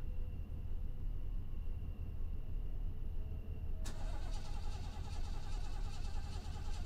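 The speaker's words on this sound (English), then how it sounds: "Now my car won't start." Car engine in the game Fears to Fathom failing to start, a quiet low idle hum followed by a sudden harsh cranking rattle that continues without catching.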